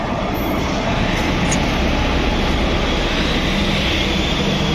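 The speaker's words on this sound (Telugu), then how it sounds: "ఇదిగోండి మనం వెళ్ళాల్సిన train Moula Ali Gaya Maha Kumbh Mela special train" The Maula Ali–Gaya Maha Kumbh Mela special train arriving at Mancherial station, a dense, continuous roar of passing railcars filling the whole stretch, loud and close, with no voices.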